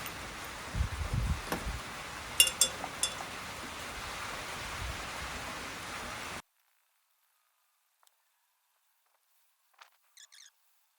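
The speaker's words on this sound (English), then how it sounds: "So let's go ahead and rinse this off" Water splashing and pattering as blank circuit boards are rinsed off during gold refining, a steady wash of spray with a few sharper drips, then cutting off abruptly to near silence with faint small clinks afterward.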